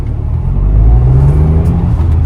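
A Tata Altroz Racer pulls away in first gear, its engine giving a loud, close, low rumbling drone that rises slightly as the car moves off, with no talking.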